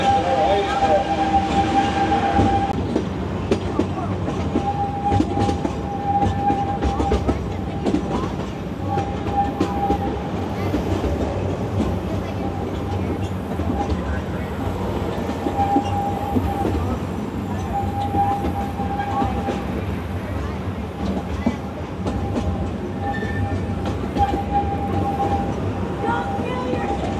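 Train rumbling and clattering through a station at Valleyfair theme park, rails clacking and a faint squeal at times, with a continuous mechanical drone and some distant voices.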